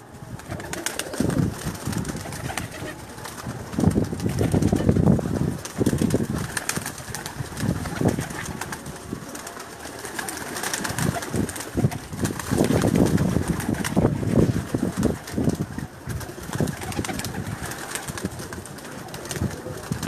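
Several teddy pigeons in a Pakistani loft give close, low, rhythmic cooing in repeated bursts, with soft rustling and shuffling between calls.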